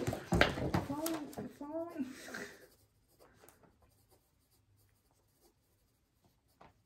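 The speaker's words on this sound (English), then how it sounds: "I just wrote it in something that almost looks like shorthand" A pen scratches out a handwritten note after a few seconds of talking, leaving faint, sparse scribbling strokes in a quiet room.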